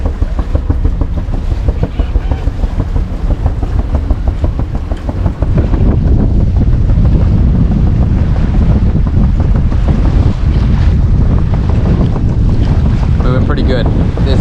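Strong wind buffets the microphone aboard a sailboat crossing Lake Huron, a loud continuous roar mixed with rushing water and waves against the hull, growing even more forceful partway through.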